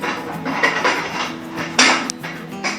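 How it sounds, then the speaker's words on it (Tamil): Quick, steady clinking of a utensil whisking egg and milk in a bowl, with rhythmic taps and scraping, close up and without speech. "இது ரெண்டையும் சேர்த்து நல்லா மிக்ஸ் பண்ணிக்கலாம்."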